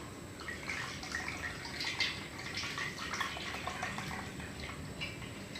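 Running water splashes and trickles as grapes are rinsed clean for making communion wine, a steady wet patter with small drips close by.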